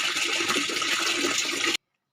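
Water gushing steadily from a tap into a bucket, a close, even rushing splash that holds for under two seconds and then cuts off abruptly.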